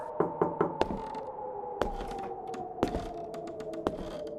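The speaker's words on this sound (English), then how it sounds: "a polite but persistent tapping against the heavy oak of their front" A polite but persistent tapping on a heavy oak front door of a remote cabin: a few quick knocks at first, then single spaced raps, each ringing with a hollow resonance.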